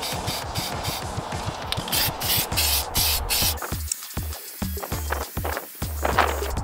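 Plasti Dip sprayed from an aerosol can in heavy coats onto car wheels being dipped gold, a steady near hiss broken by short pauses and repeated bursts, with faint footsteps or shuffling in the background.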